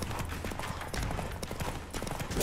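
Rapid galloping hoofbeats of a horse in The Witcher 3 pound steadily under dense game music and combat effects.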